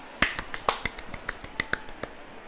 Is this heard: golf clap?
yes